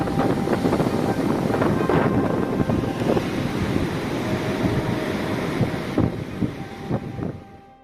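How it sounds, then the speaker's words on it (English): Storm surge waves flooding a shore under strong wind, a loud continuous roar of surf and gusting wind buffeting the microphone, with heavier crashes rising now and then before fading at the end. "as seen here with the waves flooding the shore"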